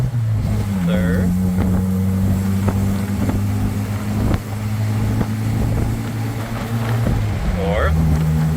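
1995 Jeep Wrangler S Jurassic Park replica engine pulling through first, second and third gears, steady droning hum with short dips at each shift, heard from inside over wind noise, with someone talking.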